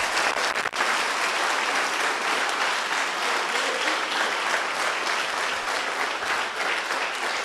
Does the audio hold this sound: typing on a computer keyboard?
no